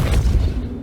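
The Repulso spell cast in Hogwarts Legacy, a brief, heavy booming blast with a low rumbling body that fades quickly, loud and close.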